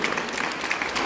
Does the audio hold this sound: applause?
yes